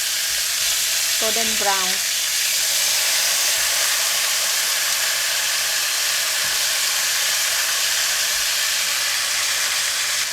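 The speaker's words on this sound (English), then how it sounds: "I'm cooking longer because the meat is quite big pieces." Large pieces of pork shoulder sizzle on a grill, giving a loud, steady, close crackle that runs unbroken throughout. A voice speaks briefly near the start.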